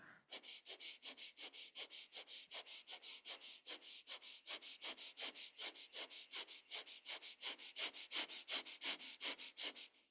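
Rapid, rhythmic sniffing breaths through the nose, a steady quick pulse of short sharp inhales and exhales, close and clear with no talking.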